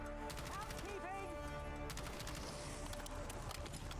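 A Kilo rifle fires in rapid bursts during a Call of Duty zombies round. The shots are sharp and repeated, mixed with game music and ambience, and a voice talks over them.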